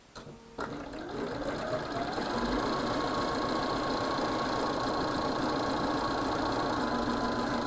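A sewing machine starts up and runs steadily, stitching a quilt seam with a continuous close whir that holds to the end.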